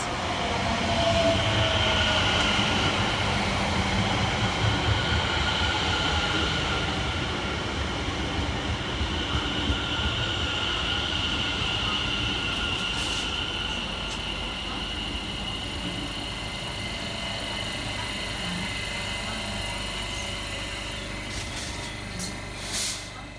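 A London Overground Class 710 electric train pulls into a station, a steady rumbling roll of wheels and traction hum with faint squeals and brake hiss, fairly close and sustained before easing toward a stop.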